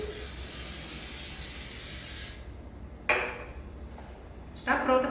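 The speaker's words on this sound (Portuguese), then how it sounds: "Então nós temos aqui um desmoldante spray que acha em qualquer loja de confeitaria" Cake pan release spray misted into a baking pan, a steady hiss lasting about two seconds, then a few short metallic clinks and rustles as the pan is handled, with a voice speaking.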